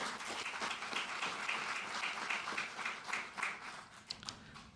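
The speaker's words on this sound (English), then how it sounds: "one round of applause for Astrolab" An audience at a NASA press event on moon base plans applauds, a steady, moderately distant wash of many hands clapping that holds for several seconds before thinning out.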